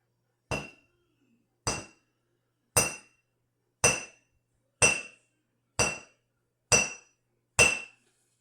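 A hammer flattening a piece of copper metal: eight sharp, ringing metallic strikes at a steady, slow rhythm, each clear and fairly close with short decays and silence between.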